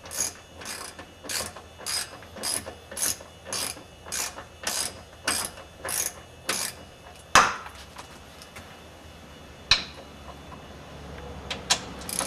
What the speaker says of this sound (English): Right now he's loosening the two bottom bolts.